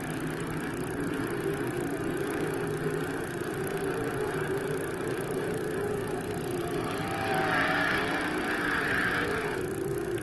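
Sprint cars race on a dirt track at a 1987 World of Outlaws event, a continuous droning roar of engines at a distance that swells louder toward the end.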